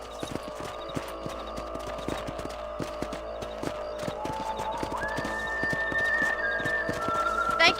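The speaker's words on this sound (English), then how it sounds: "Giddy up!" Horse hooves clip-clop in a steady, even rhythm through the Red Dead Redemption video game, over a tonal background hum and music that swells toward the end.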